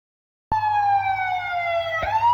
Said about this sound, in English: I used telephone and police siren sound effects.